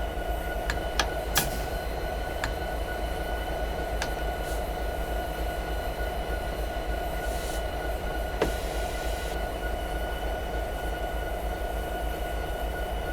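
A train in the Train Simulator video game rolls along with a constant low rumble and sharp metallic clanks and knocks scattered through, steady and fairly loud without talk.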